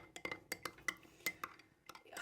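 A spoon clinking against a glass while stirring a drink, a quick irregular series of about a dozen light metallic taps, close and fairly quiet.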